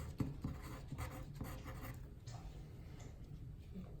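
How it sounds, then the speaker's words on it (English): Pen writing a note on a paper origami fortune teller, soft close scratchy strokes in short bursts, quiet, with no talking. "So right here I'm going to write"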